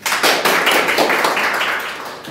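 A classroom of pupils clapping for a quiz winner, a dense burst of loud, close applause that holds steady for about two seconds before easing off.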